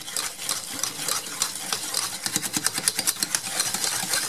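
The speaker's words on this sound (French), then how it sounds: "Et je mélange le tout simplement." A spoon stirs sugar and cornstarch together in a bowl for chocolate cream, giving a steady close scraping and clinking with rhythmic strokes that grow more pronounced toward the end.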